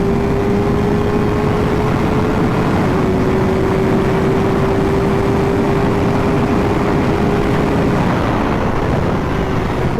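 Kawasaki Ninja ZX-4RR, a 400cc inline-four supersport bike revving to 16,000 rpm, runs flat out down a track straightaway with a steady high-pitched engine whine over loud, constant wind roar for the whole stretch.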